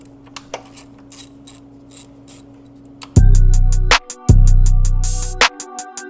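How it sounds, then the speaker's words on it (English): A hand ratchet works loose bolts on the engine of a BMW X5 35d E70 during a glow plug module job: a few faint clicks at first, then loud, rapid metallic ratcheting in two close bursts before trailing off. "I'm going to try loosening the bolts, moving things around, and see if I can get them undone that way."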